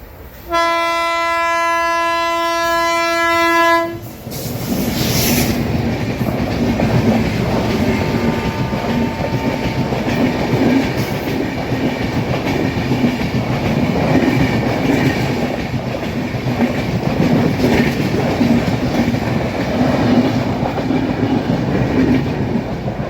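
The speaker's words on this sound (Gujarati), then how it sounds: "અહીંયા આવે છે ટ્રેન તો રહેવું પડશે ઘડીક વાટે ફાટક થઈ ગયેલા છે બંધ" A train passes a closed railway level crossing: a long, loud horn blast opens, then the heavy rolling rumble and rhythmic clatter of the passing cars carry on steadily and close by until the end.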